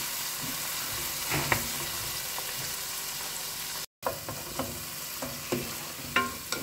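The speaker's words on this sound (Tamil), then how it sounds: "ஒரு பெரிய டொமேட்டோ, இது நல்லா வதங்கட்டும்." A large tomato sautés in a pan, giving a continuous close sizzle broken by scraping stirs and soft clatters of the utensil, with no one speaking.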